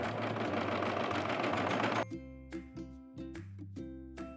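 A sewing machine stitches a sleeve into a crewneck sweatshirt, running in a steady close whir at first, then slowing into a series of separate rhythmic clacks and taps, with no talking.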